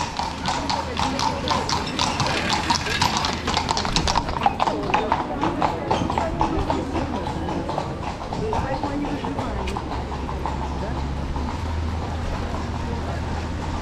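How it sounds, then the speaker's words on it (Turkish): Horses' hooves clip-clop on a street in Salzburg, a quick, steady rhythm of close taps over city background noise. People talk nearby. "Aa ah, atlar görüldü."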